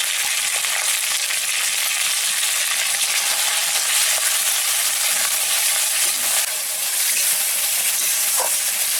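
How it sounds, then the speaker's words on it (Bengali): Spice paste mixed with water hits hot oil in a pan, giving a loud, dense, continuous sizzle that holds steady throughout with no talking. "এবারে আমি এই যে জল দিয়ে মেখে রাখা মশলাগুলো দিয়ে দিচ্ছি।"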